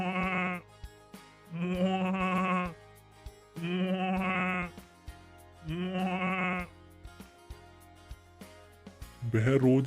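Cartoon goats bleating in a village story, four drawn-out, wavering bleats spaced about a second apart, loud and close, with a fifth call starting at the end.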